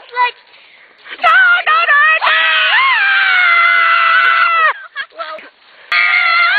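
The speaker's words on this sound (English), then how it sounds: "It's the scream!" Shrill, wavering screams in a haunted bamboo setting, loud and close, in several bursts with one long sustained wail in the middle and brief gaps between cries.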